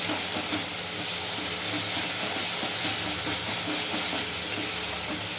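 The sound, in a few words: spice paste sizzling while being sautéed in a pan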